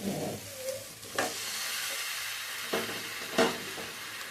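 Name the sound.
stir-frying vegetables and greens in a pan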